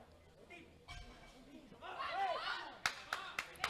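A powerlifting championship crowd and coaches cheer and murmur at a women's junior meet, rising chatter swelling into sharp claps and shouts near the end, moderately distant.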